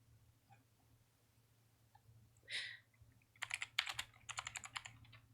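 Quick clicks of typing on a computer keyboard, a short tap followed by a rapid burst of keystrokes near the end, faint over low room hum.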